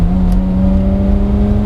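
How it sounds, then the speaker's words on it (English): A 1996 Ferrari F355 Spider engine revs loud and close, holding a smooth, high, steady tone that climbs slightly through a brief burst. "a lot of people consider this to be the best sounding car"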